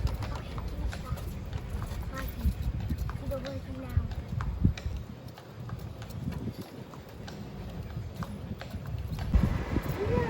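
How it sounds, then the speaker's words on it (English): Horse hooves clip-clop steadily as a horse pulls a carriage along a road at Fort Wilderness Resort & Campground, Disney World, Florida, with outdoor traffic rumble and a few faint birds in the background. "you'll see one of the carriages and one of the horses from the Circle D Ranch that we just spoke about pulling these carriages"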